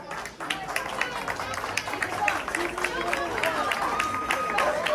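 Wrestling crowd at a CWA event in Fresno, California applauding and cheering a wrestler, a dense steady wash of clapping and crowd noise throughout, fairly loud with scattered voices mixed in.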